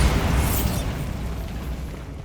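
A Bombarda blasting spell goes off in Hogwarts Legacy as a single loud, close explosion with a heavy boom that fades into a rumbling decay.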